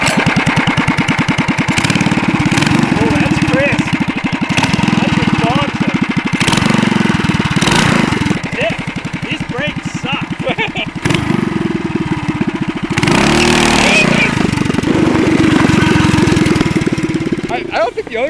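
A small Predator 212 Ghost racing go-kart engine roars and revs continuously up close, its pitch rising and dropping, with people talking over the noise at times.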